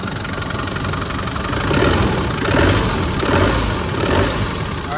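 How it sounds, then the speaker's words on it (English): A 1997 Land Rover Defender 90 with the 300Tdi diesel engine idles smoothly, a loud, close, steady clattering rumble that gently swells and eases, with a constant high whine, and no voices. "Real smooth running engine."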